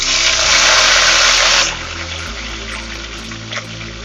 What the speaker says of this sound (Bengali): এবার ফুলকপিগুলো ভেজে নিচ্ছি।